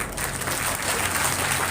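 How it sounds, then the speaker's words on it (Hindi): A crowd at the street procession celebrating the birth festival of Lord Devnarayan in Biaora claps loudly and continuously throughout, a dense, even wash of applause. "इनके लिए जोरदार तालियां हो जाए"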